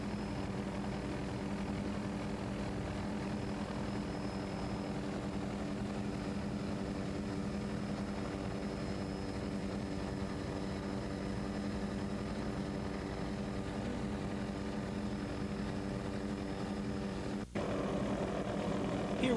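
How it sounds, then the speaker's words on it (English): Twin 400-horsepower Chevy engines on a 30-foot Shadow Cat offshore racing powerboat drone in a steady, loud roar throughout, with a brief dropout near the end before resuming. "The Sunoco Express is a 30-foot Shadow Cat with 2 400 horsepower Chevy"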